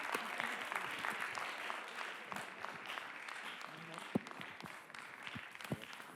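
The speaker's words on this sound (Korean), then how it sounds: "박수도 한번 주세요." A church worship crowd gives a steady round of applause, with dense clapping throughout and a few sharper single claps standing out, while voices talk underneath.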